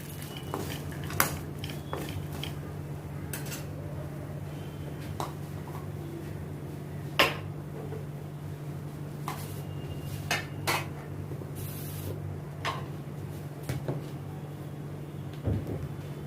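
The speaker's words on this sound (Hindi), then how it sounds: "अभी अच्छी तरह से इसको मिक्स करती हूँ।" A spoon stirs spiced shakarpare dough in a bowl, giving scattered light clinks and scrapes against the dish over a steady low kitchen hum, with no talking.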